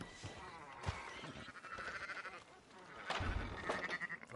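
Sheep bleat repeatedly in Red Dead Redemption 2, a flock's overlapping calls rising and falling amid ambient game sounds, fairly close and moderately loud, with no talk over them.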